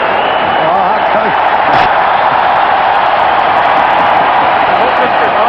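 A large hockey arena crowd at a Winnipeg Jets versus Toronto Maple Leafs game roars in a steady, dense, loud wash of cheering that holds without a break throughout.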